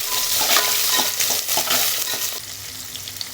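Onions, small sambar onions, chillies and curry leaves sautéing in hot oil for sambar, a steady close sizzle and crackle with occasional stirring scrapes, no talk.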